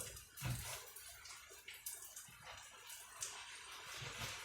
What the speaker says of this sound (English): it started pouring down again